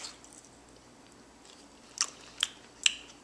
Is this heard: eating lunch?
yes